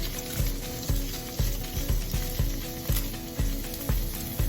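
Peeled shrimp cook in a preheated pan with a steady, close sizzle, punctuated by regular sharp taps or scrapes about twice a second, and no one speaking.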